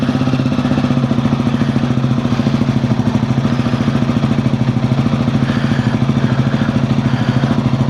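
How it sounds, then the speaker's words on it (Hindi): A 2025 Royal Enfield Himalayan 450 fitted with a Fuel X Pro Plus dual O2 sensor module runs at a steady, rhythmic idle, its loud, close single-cylinder thump pulsing evenly throughout with no voices. "आई गेस बाइक स्टार्ट करना पड़ेगा।"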